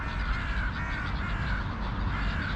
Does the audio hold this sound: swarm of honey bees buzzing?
no